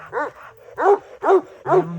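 Kangal dogs bark close by in four loud, evenly spaced yelping barks, with a faint whimper between them and no talk.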